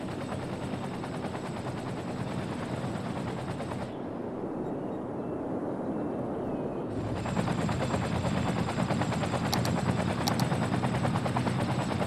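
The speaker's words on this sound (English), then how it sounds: "So now the choppers are taking off." Fire helicopters taking off in Cities: Skylines, a steady loud rotor drone with a thudding chop that thins out briefly and then swells back louder, heard alone without voices.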